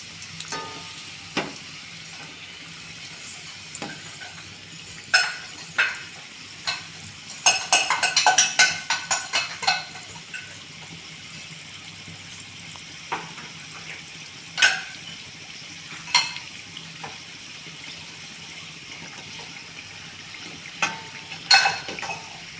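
Kajjikayalu frying in oil as they are turned over: a soft, steady sizzle with scattered sharp crackles and pops, including a dense burst of spatter, close and without talk.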